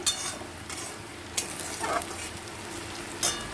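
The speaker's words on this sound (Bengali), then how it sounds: "লবণটা দিয়ে আমি পেঁয়াজটাকে আগে একটু ভেজে নেব" Onion frying in oil with salt in a pan, a low steady sizzle with a few brief stirring scrapes spaced across a short stretch, close and without any voices.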